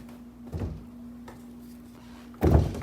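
A bedroom door with no handle is moved, giving two dull thumps about two seconds apart over a steady low hum in a quiet room.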